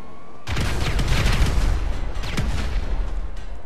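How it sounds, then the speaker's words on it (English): Sticky bombs explode in GTA V, a sudden loud blast followed by a long burst of rapid gunfire-like cracks and booms that gradually thin out, with no talking. "Oh my god! You got explosion."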